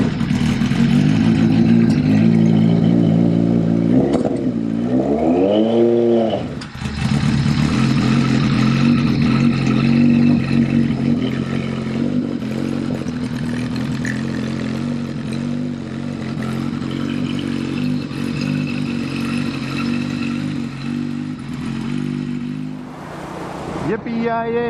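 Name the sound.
1976 Harley-Davidson Sportster 1000 motorcycle riding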